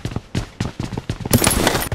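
Shotgun fire from the PUBG video game comes as a quick string of sharp, loud bursts in close succession, rising into a denser, brighter blast near the end.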